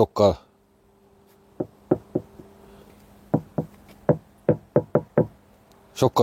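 Dull, solid knocks on a soundproofed car door, first one or two at a time, then a quicker run of thuds with quiet pauses between.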